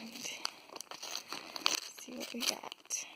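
Birthday wrapping paper around a book is torn open and crumpled up close, giving a series of quick crinkling rips and rustles with faint breathy voice sounds between them.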